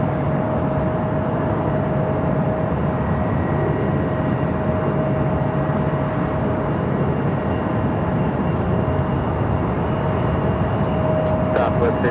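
Challenger business jet departing runway 7 left at Phoenix Sky Harbor airport, a steady broadband jet roar holding at constant loudness throughout, with a faint tonal whine riding on top and occasional radio chatter.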